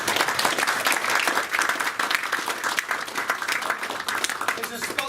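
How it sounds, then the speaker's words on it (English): Dinner audience applauding, a dense, steady clapping from many people in a hall that fills the whole stretch without pause, with a voice faintly heard within it. "give yourselves a round of applause"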